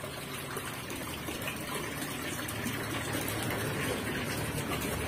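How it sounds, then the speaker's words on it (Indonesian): Water flows steadily into a fish pond, a continuous broadband gush and splash that stays even and fairly close for the whole stretch, with no voices. "Harus air mengalir."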